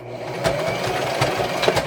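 A sewing machine stitches fabric for a Christmas garland, its motor running in a loud, close, rapid rhythmic chatter that lasts throughout.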